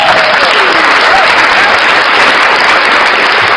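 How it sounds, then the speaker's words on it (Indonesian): Loud, sustained applause from a large crowd at a religious gathering, a dense even roar of clapping that stays steady throughout without pause. "Tepuk tangan buat Tuhan."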